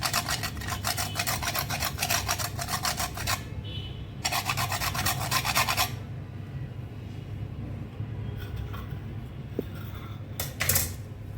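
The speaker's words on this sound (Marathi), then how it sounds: "जायफळ किसून घालते स्वादानुसार" Nutmeg is grated into a pan modak filling, making loud, close, rhythmic rasping strokes in two long bursts over a steady low background rumble, then a quieter stretch with a few faint scrapes.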